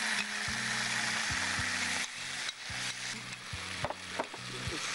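Ingredients sizzle and spit in hot oil in a frying pan in a kitchen, a steady close crackle with sharper pops of splatter and occasional stirring scrapes.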